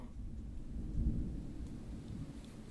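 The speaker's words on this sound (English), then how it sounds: "Is that thunder outside, or is that my own anger?" Low thunder rumbles outside in a steady, muffled roll, swelling briefly near the middle before settling back into a continuous distant grumble with a faint rain-like hiss.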